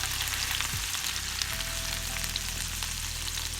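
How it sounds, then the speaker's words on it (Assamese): Chopped garlic, ginger and two green chillies frying in oil in a pan for chilli prawns, giving a steady close sizzle that runs unbroken throughout, with a low hum underneath and no talking. "এখিনি ধুনিয়াকৈ ভাজি কৰিম"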